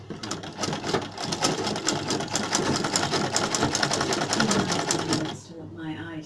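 Sewing machine stitching a band onto the end of an Ankara fabric sleeve for a sweat jacket, a rapid steady mechanical chatter running loud and close for about five seconds, then stopping into quiet room sound.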